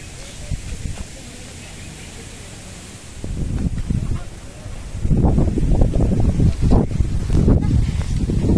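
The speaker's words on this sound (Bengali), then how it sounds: "প্রচুর বাতাস হচ্ছে।" Strong wind buffets the microphone on the bank of the Sangu river at Banshkhali, gusts rising loud and rumbling in bursts, with a voice speaking at times.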